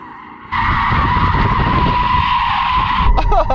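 Porsche Cayenne Turbo GT tyres skidding during a donut, a loud sustained screech starting abruptly and holding for about three seconds over engine rumble, close and intense.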